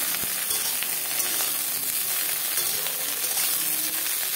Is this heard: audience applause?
no